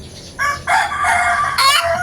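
A rooster crows close by, one loud, drawn-out call rising in stages over a quiet background.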